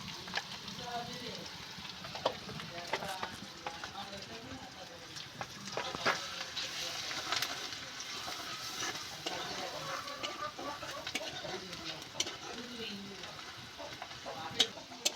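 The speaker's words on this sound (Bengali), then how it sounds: "পেঁয়াজটা আমার ভালো করে ভাজা হয়ে গেছে।" Onions frying in a pan with salt, turmeric and chili powder, a steady crackling sizzle with scattered pops and scraping stirs throughout, moderately quiet, with no talk over it.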